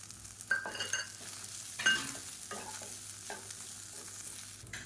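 Curry leaves, grated coconut and tamarind are sautéed in a pan for chutney, giving a faint sizzle under repeated scraping stirs of a spoon against the pan.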